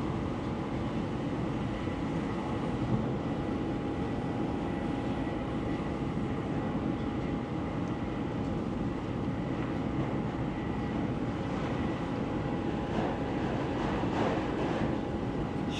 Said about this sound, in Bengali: সাড়ে 300-র উপরে স্পিড এই ট্রেনের